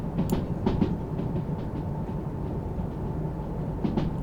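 A train rolls on rails with its power cut in the Derail Valley railway simulator game, giving a steady, loud rumble with faint clicking and no voices over it.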